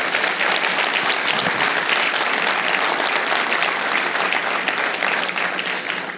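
Loud, dense applause from a church congregation, a steady roar of many hands clapping at once that holds strong throughout and dips only slightly at the very end.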